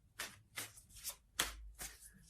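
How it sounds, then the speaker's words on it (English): Tarot cards being shuffled by hand, five soft riffling bursts spaced about half a second apart, faint and close with no talking. "That's just sloppy shuffling and that shouldn't count."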